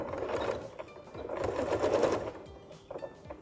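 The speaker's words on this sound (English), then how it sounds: "this time we're going to sew a 2mm seam from the fold line" Home sewing machine stitching a 2mm seam from a fold line along a concave curve, a close, steady mechanical whir with a fast rhythmic stitching chatter that pauses briefly near the end.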